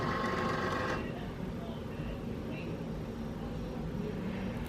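A Cricut cutting machine cuts vinyl on a cutting mat, giving a quiet, steady mechanical whir with small shifts as the blade carriage moves, faint beneath low background noise.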